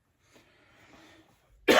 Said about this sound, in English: lately I can't get through a video without coughing